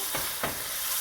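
Tomato Genovese sauce sizzling in a pan, a bright steady hiss close up with two soft stirring bumps, no voices.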